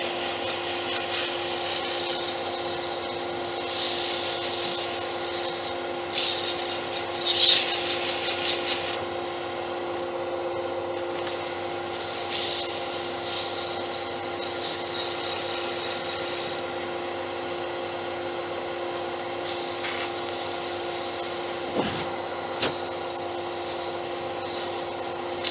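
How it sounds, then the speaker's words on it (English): A wood-turned snowman's carrot nose is sanded on a lathe, giving a steady soft rubbing hiss against a continuous motor hum, with brief louder bursts of friction scattered through. "Now we'll sand that."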